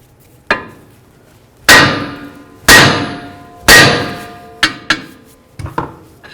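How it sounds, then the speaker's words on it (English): A hammer strikes the steering knuckle of a 2008–2012 Jeep Liberty during a front passenger-side axle replacement: sharp metallic blows, three heavy ringing hits spaced about a second apart, then quicker lighter taps, close and loud without speech. "Now you're going to hit right here on the knuckle, and you're going to be very careful not to hit the boot."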